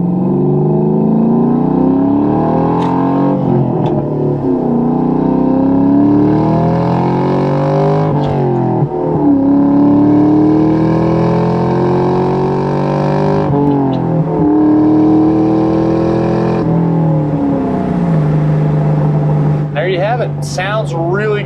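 A 2003 Ford Mach 1 with a 4.6 V8, five-speed and aftermarket exhaust accelerates on the road, its engine droning steadily and rising in pitch through repeated pulls with brief dips between gear changes.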